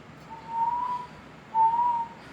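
Two sustained, steady whistled notes from a person, each lasting about half a second, separated by a short pause over a quiet background.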